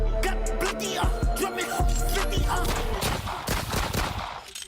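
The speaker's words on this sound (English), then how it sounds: "Gunshot sound effects" Repeated sharp gunshot effects punch through a bass-heavy music beat, coming in quick irregular bursts over the rhythm.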